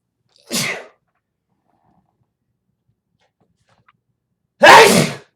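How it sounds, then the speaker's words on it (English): Two loud, sharp sneezes close by, separated by about four seconds of silence, the second one longer and louder than the first. "I'm usually not a loud sneezer, but I really had to get that out."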